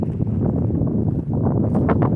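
Dense, low rumbling gusts of wind buffet the microphone continuously, with a faint rustle near the end.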